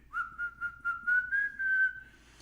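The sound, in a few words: person whistling a tune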